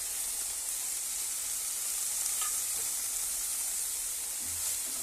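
Green chili, ginger and garlic fry in a pan for a ragi and vegetable soup, producing a steady, even sizzle and hiss that holds at one level with no talk.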